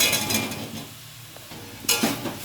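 Fried potatoes stirred into a spice masala in a pan, brief scraping strokes of a spoon with a low sizzle, a louder scrape near the end.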